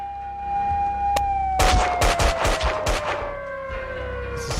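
Gunfire bursts in the Max Payne 2 video game, a rapid cluster of loud shots and ricochets erupting after a sharp single crack, over a steady siren-like drone that slowly falls in pitch throughout.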